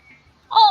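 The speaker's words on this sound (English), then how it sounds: "Oh, kitty. I heard a kitty." A single short cat meow, close and clear, rising then falling, after a brief near-silence.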